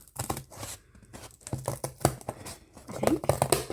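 Paper for a journal door being cut, a close series of crisp snipping and crinkling sounds in irregular bursts with short pauses between them.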